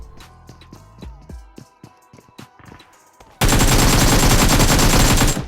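Gunfire in a PUBG-style battle royale game: scattered single shots and movement sounds, then a sudden loud, sustained close burst of rapid automatic fire to the end.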